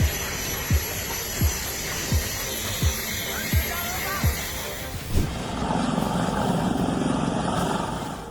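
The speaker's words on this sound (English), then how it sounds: "A grey helicopter is landing on the landing strip." Helicopter rotor thumping in a steady, regular beat over a constant engine whine, then the beat fades into a broad roaring wash as it settles.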